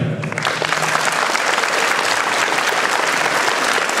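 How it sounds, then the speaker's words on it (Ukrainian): Crowd applause at the opening ceremony of a youth football tournament, dense sustained clapping that swells in right at the start and holds steady and loud to the end, with no talk over it. "Я думаю, ми повинні привітати оплесками ці змагання."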